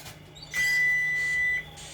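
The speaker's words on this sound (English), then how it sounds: "Oh, you guys heard that buzzer?" A cooking appliance buzzer signals that it has reached 400 degrees with one steady electronic beep lasting about a second, loud and close, over a faint background hum.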